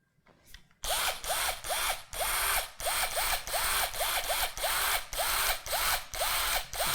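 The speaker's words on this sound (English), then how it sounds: "This is a DeWalt DW920. Watch the sparks fly out of this thing." A DeWalt DW920 cordless screwdriver runs loudly and up close, throwing sparks, in a fast, steady train of rasping mechanical bursts with a ratchet-like rhythm that follows a short, quieter start.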